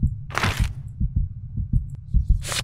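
Heartbeat effect in The Papers horror video game: repeated low, muffled thumps pulse steadily and loudly, with bursts of hissing whispery noise at the start and end.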